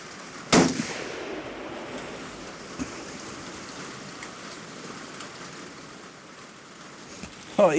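Two sharp rifle shots fired at a target outdoors: one loud crack near the start and another near the end, separated by a long stretch of quiet ambient air.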